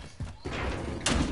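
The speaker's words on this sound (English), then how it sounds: "I hear his footsteps." Footsteps of another player in a video game, heard as three heavy, dull thuds spaced unevenly over a low background rumble.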